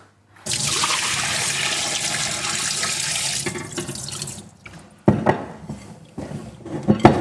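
Liquid poured off a pot of cooked Hainanese chicken and rice, a steady close splashing stream for about three seconds that thins out, followed by a few sharp clattering knocks of the pot.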